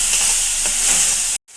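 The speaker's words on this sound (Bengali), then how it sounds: "গাজরটা একটু ভেজে নেব।" Carrots sizzle and hiss steadily in a hot pan while being stirred, a close, continuous frying crackle that cuts off abruptly near the end.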